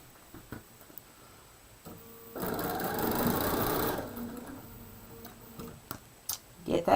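A sewing machine runs steadily for about a second and a half, stitching a 2 by 6 inch strip through the middle of a quilt block, framed by quiet handling clicks before and after.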